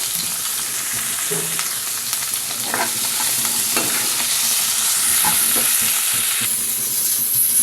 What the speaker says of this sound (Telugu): ఇప్పుడు సన్నగా కట్ చేసిన ఉల్లిపాయ ముక్కలు వేసి వేయించుకోవాలి